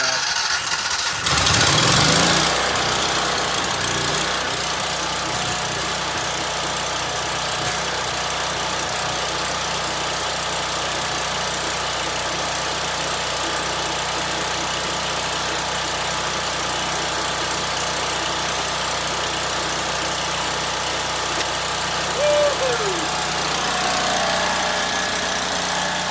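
Automatic standby generator engine idling steadily at constant speed, a continuous mid-to-low hum that holds even throughout, with a brief louder burst near the start.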